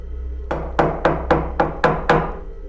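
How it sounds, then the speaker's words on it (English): Seven firm, evenly spaced knocks on a wooden door, close and distinct, with quiet between each rap. "another knock on the door"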